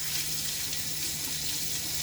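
Razor rinsed under a running tap, a steady faint hiss of water flowing into a sink, alone and continuous.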